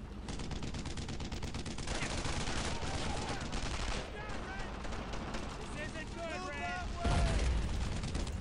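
Dense gunfire fills a World War II video game battle in Brothers in Arms: Earned in Blood, with rapid machine-gun bursts and repeated shots that run nonstop and grow heavier near the end, while voices shout underneath.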